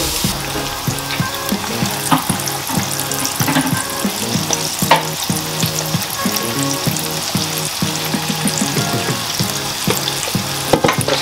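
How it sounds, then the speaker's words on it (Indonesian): Loud, continuous sizzling of large chicken pieces frying in hot oil, crackling and popping steadily throughout with occasional clatters of utensils. "Menggoreng ayam-ayam yang besar ya."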